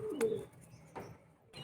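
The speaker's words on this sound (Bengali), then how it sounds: "দেখুন পায়রাটা" A pigeon gives a short, soft coo at close range, followed by a couple of faint rustling bursts in a quiet setting.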